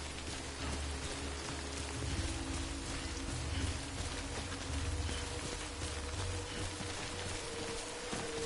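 Steady rain patters over the ground in the video game Death Stranding, a dense, even hiss of drops on surfaces with a low rumble underneath, continuous throughout and without voices.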